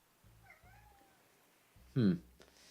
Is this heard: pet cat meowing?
yes